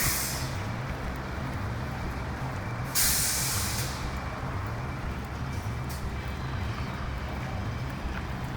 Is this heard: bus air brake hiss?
yes